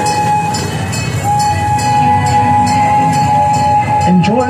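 The Old Tucson ride train rumbles close as it pulls in and slows to a stop, with a steady mechanical hum and a squealing note near the end.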